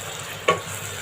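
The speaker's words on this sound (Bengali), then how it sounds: "মশলাটা ভালো করে কষিয়ে নিতে হবে।" A spoon scrapes once through spice paste (masala) frying in a pan for layer chicken bhuna, a single soft stroke over a faint, steady sizzle.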